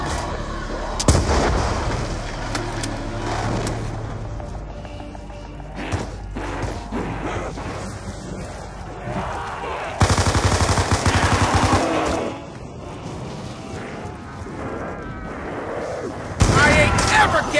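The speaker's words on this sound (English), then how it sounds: "Some kind of grenade launcher!" Grenade launcher shots in the Call of Duty zombies map Mob of the Dead, heavy booming blasts recurring through a dense game soundscape of gunfire and effects, with loud bursts near the start, middle and end.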